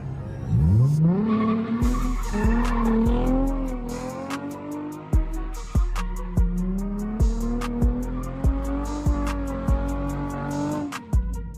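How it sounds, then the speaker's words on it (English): A car spins donuts outdoors, its engine revving in long rising and falling sweeps while the tires squeal and skid almost continuously, loud and close, with sharp clicks and bumps punctuating the run. "Let's throw a few donuts outside here."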